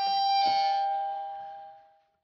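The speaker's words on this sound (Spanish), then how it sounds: "El timbre tiene sonido." A Playmobil toy dollhouse doorbell rings once with a bright electronic chime tone that rises in the first half second, then slowly decays over about two seconds, close and alone.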